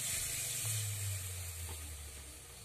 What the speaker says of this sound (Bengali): আমি দিয়ে দেবো এক বাটি নারকেলের দুধ